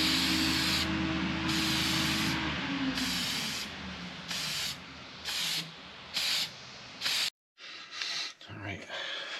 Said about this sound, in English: we're ready to spray on a couple of coats of shellac